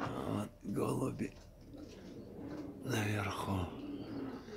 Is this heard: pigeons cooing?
yes